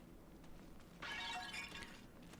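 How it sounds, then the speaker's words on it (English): Glass shatters in the Silent Hill f video game, a bright crash with a short tinkling spill lasting about a second over a steady low game ambience, no talking. "Was that the most cartoonish glass breaking sound that's ever happened in history?"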